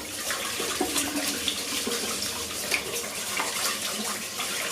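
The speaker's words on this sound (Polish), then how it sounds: "I już płuczemy w zimnej wodzie." Cold tap water runs steadily into a pot while rice is rinsed, a continuous close hiss and splash with no talk.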